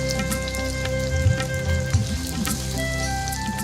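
Green chili paste with salt and turmeric sizzles and fries steadily in a pan, a close, continuous crackle with small bursts of spattering and no talking.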